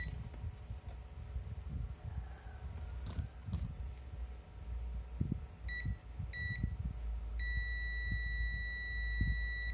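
A Zotek ZT102 digital multimeter on continuity test, checking a fuse, gives two short electronic beeps and then a steady, sustained beep over low background rumble and handling noise.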